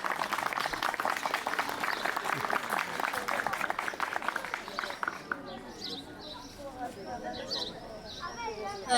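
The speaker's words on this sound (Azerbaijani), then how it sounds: "Alqışlayayım müəllimlərimizi." Audience clapping at a school awards ceremony honouring teachers, a dense steady patter of applause for about five seconds, then thinning into scattered claps with faint background chatter.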